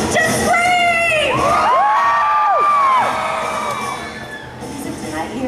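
A large audience screams, whoops and cheers at a live Halloween Horror Nights stage show, a loud sustained roar with shrill rising and falling yells on top that tapers off toward the end.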